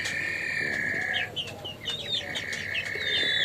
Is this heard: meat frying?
no